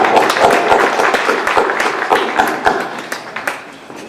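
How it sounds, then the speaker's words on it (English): A graduation ceremony crowd applauds steadily, many hands clapping in a dense, even patter that fades slightly toward the end. "please give a round of applause to your support system"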